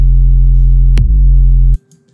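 A heavy, distorted 808 bass synthesized in Serum booms as a loud sustained low tone, re-triggers with a pitch-dropping punch near the middle, then cuts off abruptly to a faint tail.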